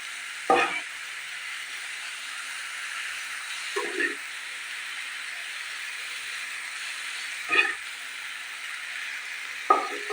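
Pumpkin and jackfruit seeds frying in a pan, a steady close sizzle with a few brief stirring scrapes breaking through now and then.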